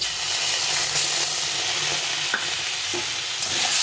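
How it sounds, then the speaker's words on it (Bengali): Potato and pointed gourd frying in a pan with ground spice paste, a loud continuous sizzle and hiss with occasional stirring scrapes. "দিয়ে ভালো করে এটাকে ভেজে নেব"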